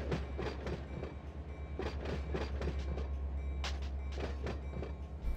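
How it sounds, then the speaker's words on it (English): An AI-run train rolls past in the Run8 train simulator, a steady rumble and wheel clatter carried by rhythmic clickety-clack beats over a constant low hum, continuous and fairly close with no voices. "Auto train."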